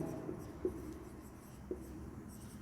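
Chalk or marker writing on a classroom board while working through a geometry proof for a class 9 quadrilaterals exercise, a faint continuous scratching with a couple of sharper taps, no talk over it.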